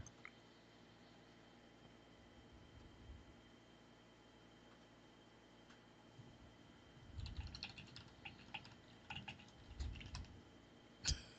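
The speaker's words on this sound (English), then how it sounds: "Oh, he's typing." Typing on a computer keyboard comes through a voice call: faint background hiss at first, then irregular bursts of soft, close clicks and taps in the second half, with no talk.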